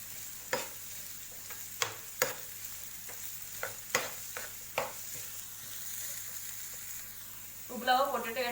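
Chopped tomato and capsicum fry on a tawa for street-style Mumbai tawa pulao, with a low steady sizzle broken by sharp, irregular spatula scrapes and knocks. A voice briefly joins near the end.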